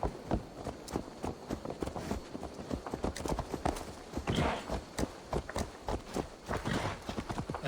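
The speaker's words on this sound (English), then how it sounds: "Oh, you're gonna steal his horse?" Horse hooves clip-clop in the Assassin's Creed Valhalla video game, a quick, irregular run of close, crisp hoofbeats over faint background ambience, with no talking.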